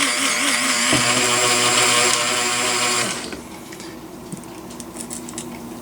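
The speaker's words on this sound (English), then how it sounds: "You can hear the grinder slowing down" A grinder powdering sugar whirs with a strong steady tone, then after about three seconds drops off and slows to a quieter, rattling spin with light ticking.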